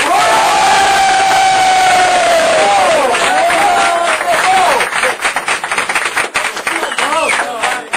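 A loud crowd of supporters at a jersey-presentation event roars and cheers for the player Gazelle, a sustained chanting, whooping ovation with clapping breaking through toward the end.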